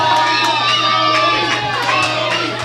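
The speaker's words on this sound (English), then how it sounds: "The bell has sounded, and listen to the ovation here that Carl the Machine Gun Anderson is actual" Loud wrestling crowd roaring, cheering and clapping in an ovation after the bell at an Empire Wrestling Federation anniversary show, with children shouting among the sustained arena noise.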